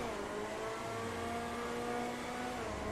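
Engine of a Vysser Neo car in GTA V Online, a steady sustained revving drone with layered harmonics, loud and continuous throughout with no talk over it.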